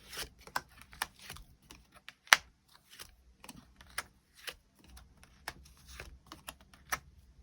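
Tarot cards being handled and shuffled close up, a series of soft, irregular papery ticks and slaps with brief pauses between them, quiet and with no voices.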